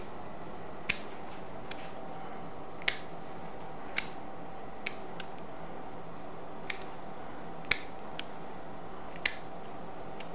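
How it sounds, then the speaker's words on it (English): Scissors snip off extra vines while a living wreath is being made, a series of sharp, isolated clicks spaced irregularly over a faint steady hum, close and quiet. "I'm going to cut off all these extra vines"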